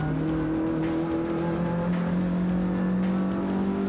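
Renault Sport Clio V6 Trophy race cars accelerate away from the start at Misano, a pack of high-revving V6 engines wailing and rising in pitch as the field pulls clear, loud and continuous.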